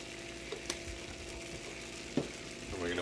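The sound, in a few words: cream added to hot pan after bourbon, sizzling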